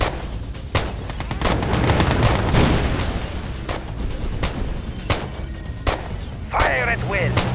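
Ship's guns fire in a naval battle, with repeated sharp booming shots at uneven intervals over a continuous rumble of distant cannon, and a brief voice cuts in near the end.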